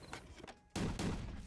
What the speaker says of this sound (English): Ooh, cannon.